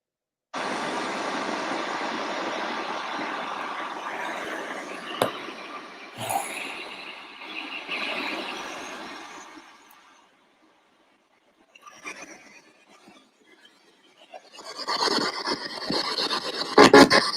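Rapid, raspy spirit box radio static in reverse sweep, sweeping continuously for several seconds, then dropping to near silence before bursts of crackling noise return, with no voices.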